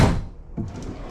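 A small drawer in a 40-foot fifth wheel camper's bedroom is handled, a close wooden knock as it shuts followed by a softer second bump and light rattle.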